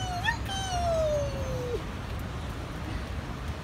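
A human voice imitates a cat meowing with one drawn-out tone that rises briefly and then slides slowly downward, fairly faint over a low steady background rumble.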